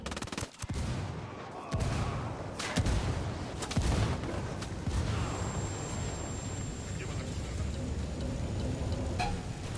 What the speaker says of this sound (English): I call Pacatari for some mortar fire